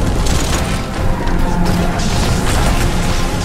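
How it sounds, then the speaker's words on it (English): Ship cannons firing a broadside in the VR naval game BattleWake, loud crashing booms and rumbling impacts layered over dense battle noise and music, continuous and close. "Fire the broadsides!"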